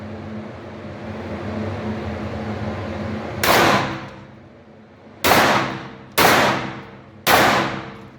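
Four sharp gunshots ring out in a shooting competition, each shot decaying into a long echo; one shot, then three more in quicker succession, over a steady background hum.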